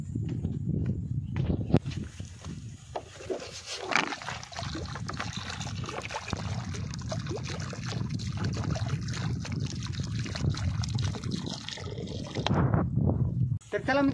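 Water is poured from a container into a cavity in a rock, left out for birds, giving a continuous trickling splash over about fourteen seconds with voices speaking over it.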